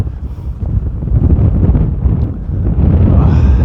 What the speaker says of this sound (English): very windy. Said it would be gusting 30 mile an hour today.